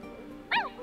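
A single short bark from a pet dog in The Sims 4, sharp and close, heard over a quiet background hum.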